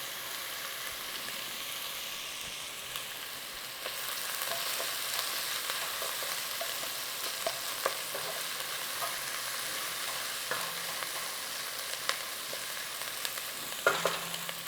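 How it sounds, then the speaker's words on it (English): Chopped onion frying steadily in a pan for an Indian aloo gobi, a continuous close sizzle with occasional stir clicks and scrapes, no voices. "Take your time with the onion, a little bit translucent, a little bit golden."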